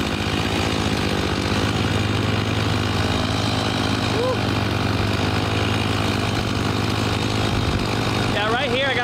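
A chainsaw engine runs steadily and loudly throughout, holding a constant droning pitch, with a brief voice near the end.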